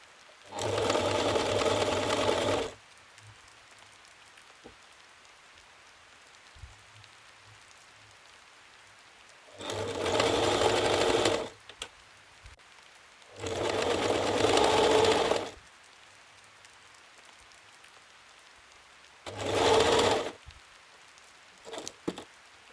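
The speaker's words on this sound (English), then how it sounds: "push the seam flat towards the bodice and top stitch on the seam" A sewing machine topstitches the neckband seam of a stretchy round-neck T-shirt in several loud, steady bursts of rapid stitching, with quiet pauses between the runs.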